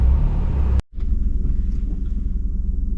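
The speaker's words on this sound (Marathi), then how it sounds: "गाडी मला आतमध्ये पार्किंग नाही म्हणून मी रिव्हर्स घेतोय गाडी" A car reverses into a parking spot on a rainy day in Ratnagiri, its engine a heavy low rumble broken by a brief cut, then a steady idling drone.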